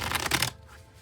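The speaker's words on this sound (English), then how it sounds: "I'll shuffle till the deck feels ready, then I'll cut." Brief riffle of a tarot deck being shuffled, a crisp burst of card flutter for half a second that then stops into quiet room tone.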